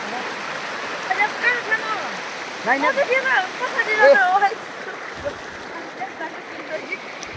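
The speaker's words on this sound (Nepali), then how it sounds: "अहिले चाहिँ हामी खोला तर्न लाग्छौँ" Steady rushing water of a river people are about to cross on foot fills the background while people talk over it.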